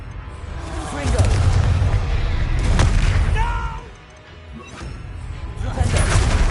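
A Confringo fire spell explodes in the Hogwarts Legacy video game, heard as loud booming blasts over a busy, dense game soundscape, with a brief dip in the middle before the rumble returns.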